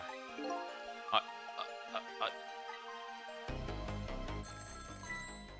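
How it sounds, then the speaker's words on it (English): Telephone ringing in the video game Ghost Trick: a few bright electronic rings in quick succession, followed by a louder burst of game music with bell-like tones. "Oh my god, the phone!"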